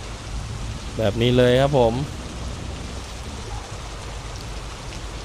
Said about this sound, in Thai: วิ่งงานให้ดูเลยนะฮะวิ่งตอนฝนตกนี่แหละนะครับ